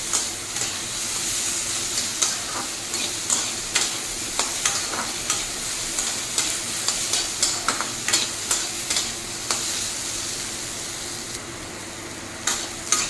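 Snake gourd frying in mustard oil in a wok, stirred with a spatula in a steady rhythm of scraping clinks over a constant close sizzle, no voices.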